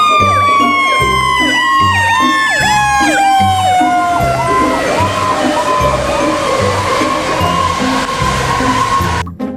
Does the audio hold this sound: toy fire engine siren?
yes